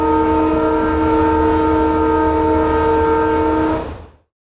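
A train sounds a loud, steady multi-tone horn over the rumble of rolling wagons, sustained for about four seconds before fading.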